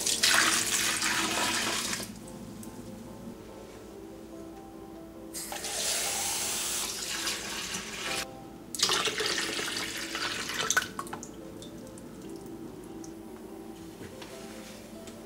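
Tap water runs in strong bursts into a can, stopping and starting three times with quiet gaps between fills.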